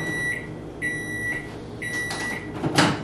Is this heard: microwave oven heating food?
yes